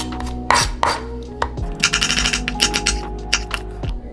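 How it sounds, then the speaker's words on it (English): A knife cuts an onion into thin slices on a cutting board, giving a close series of sharp, uneven chopping taps with short pauses between bursts. "I'm gonna go with the onion. I like to cut it up nice and thin."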